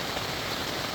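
Steady, even rain hiss falling around a camp beside a clear Ozark stream, a constant broadband patter with no breaks and no voices across the whole second.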